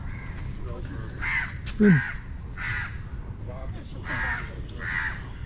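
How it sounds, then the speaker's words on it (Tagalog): Several loud crow caws repeat in steady succession, with a person briefly speaking among them, at Sungei Buloh Wetlands in Singapore. "Ingay ng ano, ingay ng uwak."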